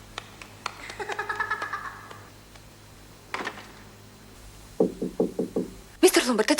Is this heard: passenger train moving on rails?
no